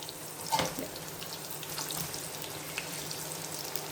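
Bottle gourd pieces fry in hot oil, a steady close sizzle with crackles and a brief clatter of stirring near the start.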